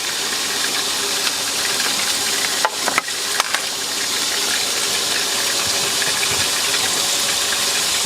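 A burger patty fries in a pan inside a camper, giving a steady close sizzle throughout with a couple of brief clatters near the middle and no talk.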